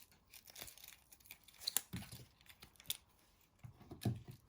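Onion skin being peeled back in layers by hand in a home kitchen, giving soft papery crinkles and tearing rustles in a few separate bursts, close and quiet.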